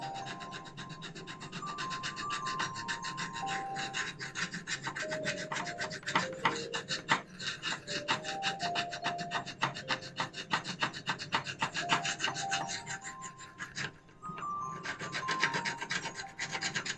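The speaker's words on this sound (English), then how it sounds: "So I'm going to sand off the little residue so that we'll have a nice smooth base." Steady rasping rubs of sanding residue off a figurine base, close and continuous with rapid strokes, no talking.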